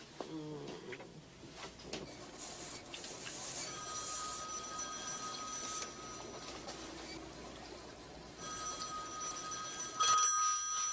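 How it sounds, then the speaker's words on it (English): A telephone rings in a home setting, its bell tones carrying as steady repeated ringing over a busy background of low room noise and scattered sounds, with a louder burst of ringing near the end. "answer the phone."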